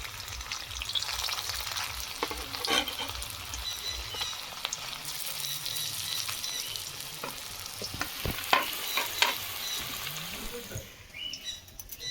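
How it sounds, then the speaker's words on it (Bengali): Banana flower kofta balls frying in hot oil for a Bengali curry, a continuous close sizzle with bubbling, spoon stirring and occasional clinks, fading slightly near the end, with no talking. "একইভাবে বাকিগুলো আমি ভেজে নেবো"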